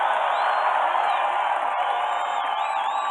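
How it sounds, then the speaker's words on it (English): Huge outdoor political rally crowd roaring and cheering continuously, a dense sustained wall of voices with whoops and shouts, loud and steady throughout. "This is a hell of a crowd."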